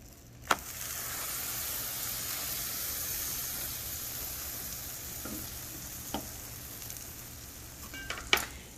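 Grilled cheese and grilled ham and cheese sandwiches fry in a pan with a steady, soft sizzle, broken by a few sharp clinks and taps of a utensil.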